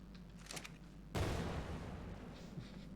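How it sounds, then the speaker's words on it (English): A sudden loud gunshot-like crack in the ARK survival video game, a single sharp burst that decays into a rumbling tail over a low game background, with no talking. "Sounds like a fucking gunshot."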